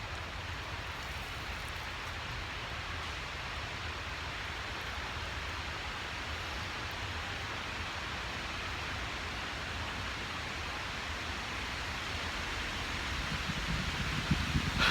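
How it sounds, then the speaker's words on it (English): Strong wind blowing steadily outdoors as a dense, broadband rush that builds slightly toward the end, with no voices present. "This wind, you can hear it picking up right now."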